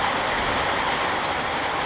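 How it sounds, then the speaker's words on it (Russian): Heavy sideways rain beating down outdoors by a river, a dense, steady roar of drops close by with no pauses and no voices. "Дождь боковой, давно такого не было."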